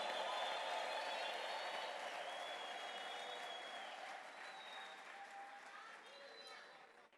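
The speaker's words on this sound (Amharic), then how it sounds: "ታላቅ እልልታ ጭብጨባ" A church congregation claps and ululates during a sermon, a faint, distant wash of steady applause with high trilling voices drifting over it, slowly fading over several seconds.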